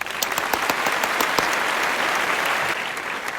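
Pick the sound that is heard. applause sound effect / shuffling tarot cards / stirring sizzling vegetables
applause sound effect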